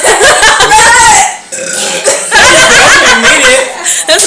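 Loud, close burps drawn out over a couple of seconds each, with chuckling and snickering laughter mixed in between.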